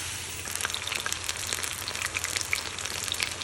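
Onion coated in all-purpose flour, garlic powder, salt and pepper frying in hot oil: a steady, close crackling sizzle with scattered pops, alone.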